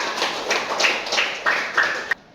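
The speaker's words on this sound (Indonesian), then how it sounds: "Tepuk tangan buat teman-teman kalian" Students in a junior high school classroom clap in a short burst, about six distinct rhythmic claps close by, ending abruptly.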